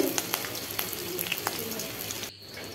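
Green chillies and nigella seeds frying in mustard oil in a kadai on a gas stove, a soft continuous sizzle with scattered small pops and crackles, quiet and close, dropping out near the end.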